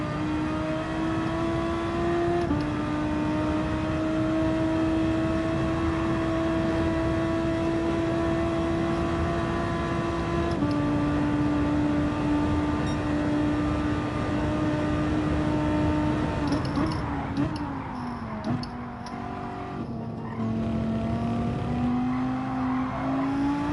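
A car engine in Gran Turismo 7 drones at steady high revs, holding a sustained tonal whine with brief gear-shift dips and a drop in pitch near the end as the car lifts off.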